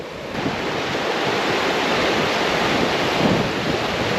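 Rushing water at a waterfall at Jasper, a constant broad roar close to the microphone with some wind buffeting, steady throughout with no voices.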